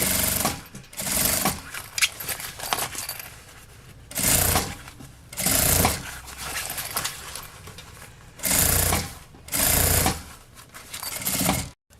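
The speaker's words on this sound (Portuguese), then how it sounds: "vou fazendo a costura bem na beiradinha" A sewing machine stitches bias binding along a fabric edge, loud close bursts of rapid mechanical whirring separated by short pauses as the fabric is repositioned.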